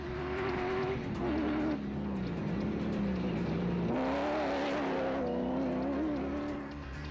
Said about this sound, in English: the locally built and developed BMW X3 showing an impressive turn of speed